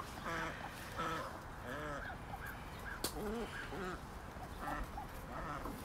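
Newly hatched young turkeys give repeated thin, squealing calls, fairly faint against steady background noise, while trying to climb into a tree for the night.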